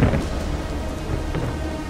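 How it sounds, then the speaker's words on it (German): Heavy rain pours steadily in a Himalayan thunderstorm, with a deep rumble of thunder rolling underneath, loud, close and continuous throughout. "Es donnert, es blitzt, es regnet."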